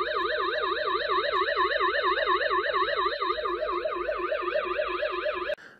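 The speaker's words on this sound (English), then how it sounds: "It won't alarm right away, and then it'll set the alarm after 10 seconds." An Aqara Camera Hub G3 security siren wails loudly and close, with a fast, even rising-and-falling tone that holds for several seconds and then cuts off abruptly.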